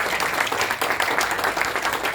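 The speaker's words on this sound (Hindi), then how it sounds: "इन दोनों के लिए जोरदार ताली होनी चाहिए" Audience applause at a business seminar, a dense steady wash of many hands clapping, loud and close, lasting the whole moment.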